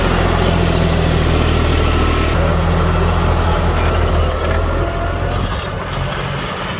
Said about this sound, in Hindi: 5310 है जॉन डियर का, गेयर प्रो सीरीज का ट्रैक्टर है, पीछे सुपर सीडर लगा हुआ है इसके